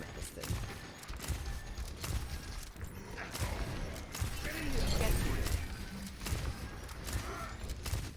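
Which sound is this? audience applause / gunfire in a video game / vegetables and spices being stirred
gunfire in a video game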